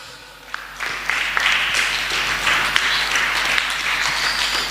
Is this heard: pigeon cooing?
no